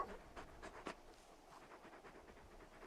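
Torgal, the large dog in Final Fantasy XVI, pants softly with quick rhythmic breaths, faint and close with no other sounds over it.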